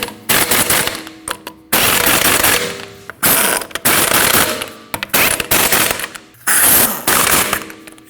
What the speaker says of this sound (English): And you want to tighten those lug nuts in a star pattern.